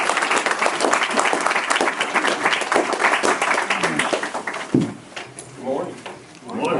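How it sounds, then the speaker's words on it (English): A crowd at a Toyota of Boerne award gathering gives a round of applause, dense loud clapping that thins out and fades near the end, with some voices mixed in. "Everybody give Vic a round of applause."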